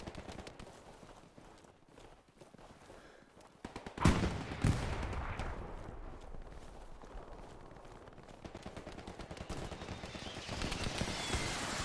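Sustained suppressing gunfire in the World War II shooter game Hell Let Loose rattles as a continuous stream of distant rapid shots. A louder, closer burst breaks in partway through, then the crackling steadies again, with no talking.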